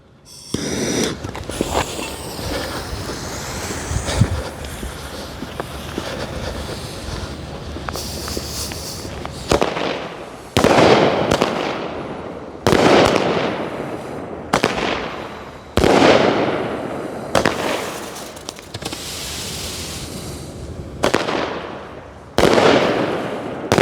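Log Splitter rocket fireworks by Winda go off loud and close: a dense crackling barrage at first, then a steady run of sharp launches and bursts about every second or two, with no talking.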